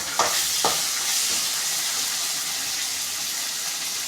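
Curry leaves hit hot oil with two quick crackling bursts, then a steady bright sizzle of frying continues close up without talk.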